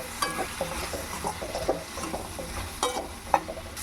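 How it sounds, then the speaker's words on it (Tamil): Coriander and chilli powder are sautéed in a pan, with a soft sizzle and light scraping stirs of a spoon, fairly faint and close, no speech. "இது ரெண்டையும் சேர்த்து நல்லா வதக்கி விட்டுக்கலாம்"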